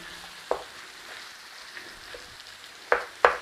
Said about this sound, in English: In with our pork and beef. Start to break it up in there